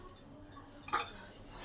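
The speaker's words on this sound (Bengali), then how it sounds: "এবার আবার কিছুটা তেল দিলাম" Cooking oil poured into a pan for soya pulao, faint close drips and a soft liquid squish in a short uneven trickle.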